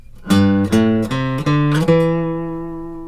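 Five plucked guitar notes of a pentatonic scale starting from low G rising one after another at a steady pace, each ringing clearly, the last one sustaining and fading out.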